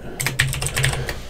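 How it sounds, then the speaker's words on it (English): Fingers typing quickly on a computer keyboard, a close, steady run of light clicking keystrokes in short bursts with no voice. "we'll type in vulture here"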